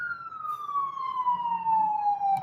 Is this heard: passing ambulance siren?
yes